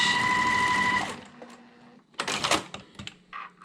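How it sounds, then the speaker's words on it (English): Sewing machine stitching a quilt seam with a quarter-inch foot, a fast close mechanical whir lasting about a second before stopping, followed by fabric handling clicks and rustles. "I'm going to stitch right along that side using my 1/4 inch"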